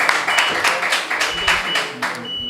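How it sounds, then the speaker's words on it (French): Quiz show audience giving a short burst of clapping, bright and fairly close, rising and falling in a few waves over a couple of seconds before tapering off. "Public, s'il vous plaît, ça s'applaudit quand même."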